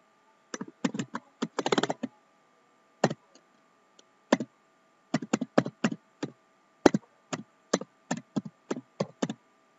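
Keys clack on a computer keyboard as a reference number is entered into MYOB accounting software, in irregular quick clusters of sharp taps with short pauses, close and fairly quiet in an otherwise silent room.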